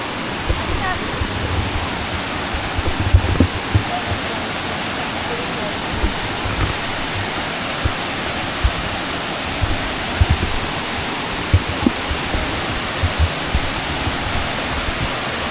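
Tirathgarh waterfall running low on water gives a steady, broad rushing roar heard up close, with occasional faint bumps but no clear talk over it.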